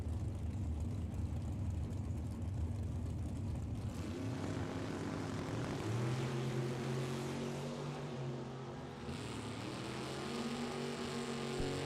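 Drag racing between a Mustang and a Chevelle at a track, with a loud, sustained roar of engines that rises in pitch as the cars run. The sound is heavy and continuous throughout.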